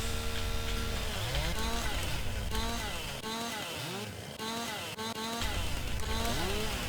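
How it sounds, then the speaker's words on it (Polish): Chainsaw cutting through a tree in Farming Simulator 19, a steady loud engine drone with rising and falling revving pitch throughout, briefly dropping lower midway before surging again. "Tak, żeby te drzewo skrobać, to trzeba tutaj piłą pomachać"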